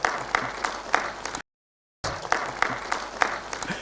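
Audience clapping at a Pan African youth convention in Nairobi, a broad steady wash of applause with a brief gap of silence partway through, no voices standing out.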